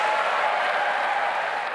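Steady applause from an audience for Prime Minister Keir Starmer at a speech in Liverpool, a continuous dense wash of clapping heard at moderate distance with no voices on top.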